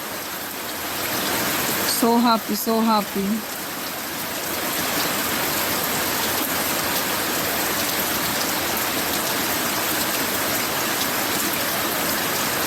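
Steady rain pours down continuously outdoors, a dense broadband hiss that fills the whole clip; near the start a voice briefly speaks over it before the downpour carries on alone.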